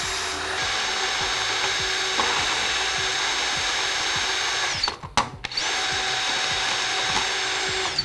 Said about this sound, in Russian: сверло у меня по нему просто катается и дальше внутрь, вглубь не проходит